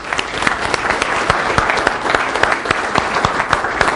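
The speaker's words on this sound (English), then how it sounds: "let's give our fellow TBBOer, Dr. Ron Eccles, a nice warm round of applause" An audience breaks into a warm round of applause at a live event, dense, steady clapping from a large crowd lasting several seconds, close and loud.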